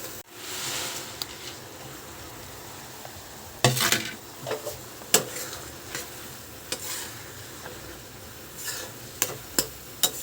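Fried boondi being stirred into sugar syrup in a pan, with scraping and clinking of a spoon against metal and soft bubbling, broken by a few sharp utensil knocks.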